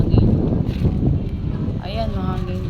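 Gusty wind buffets the microphone with low rumbling roars outdoors at a town fiesta in Candijay, while a voice speaks faintly underneath.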